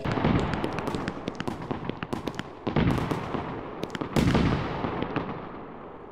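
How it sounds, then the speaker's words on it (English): Fireworks in the video game Fireworks Mania burst in a dense, continuous barrage of crackling pops and booms, loud and close, with no voices. "that was like a five minute explosion"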